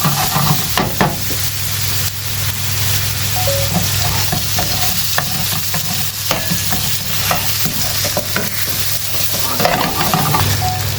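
Pre-cooked onion, fried with salt and turmeric, sizzles and is stirred in a hot pan for a fiery naga chicken curry, a steady loud frying hiss with scraping stir strokes throughout, no talking.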